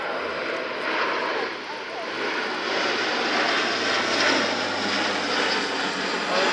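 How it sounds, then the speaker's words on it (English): Airbus A400M Atlas turboprop transport on landing approach at an airshow with undercarriage down, a loud continuous engine roar holding steady as it passes while someone talks over it. "Here we see the aircraft coming down with undercarriage down"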